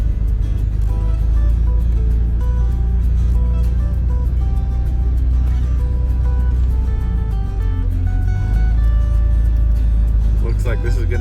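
A Toyota drives steadily through a long 1930s tunnel, its loud engine and road drone booming continuously in the enclosed space, with faint tonal hum on top and a slight dip and swell partway through.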